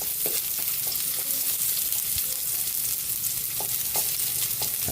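Chopped onion frying in oil in a pan, a dense steady sizzle up close with repeated scraping and tapping of a spatula as it is stirred.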